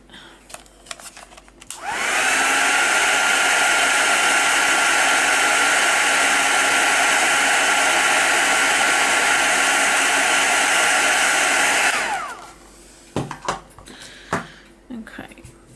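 Heat tool warming a mixed media diary cover, a loud steady blowing whoosh switched on for about ten seconds and then off, with faint handling noises before and after.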